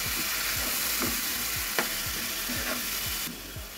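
Red chili powder, turmeric and mixed spice frying in oil and being stirred in a pan, a steady sizzle broken by regular scraping strokes of a spoon about every half second, close and fairly loud with no talking.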